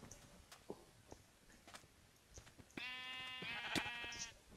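Sheep bleating in the video game Minecraft during a multiplayer sheep-collecting mini-game, a loud sustained bleat with a clear harmonic stack arriving after a few quieter clicks and game effects.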